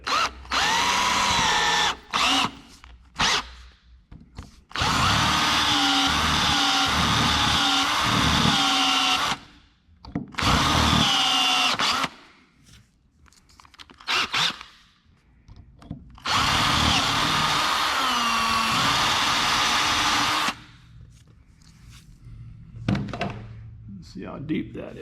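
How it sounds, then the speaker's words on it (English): A power drill with a number 26 bit bores an angled hole into the 1830 case for new seals, several whining bursts of spinning separated by pauses, with occasional thunks and handling noises. "Drilling at an angle to get it move over there a little bit."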